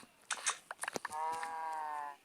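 A synthetic-sounding cow moo from Minecraft, drawn out and fairly clear, comes after a few short clicks and rustles; no one speaks.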